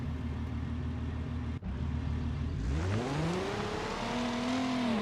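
Ford Mustang engine in the BeamNG driving game, idling with a loud low rumble, briefly cutting out, then rising in pitch as the car pulls away and accelerates through a gear change, with no talking.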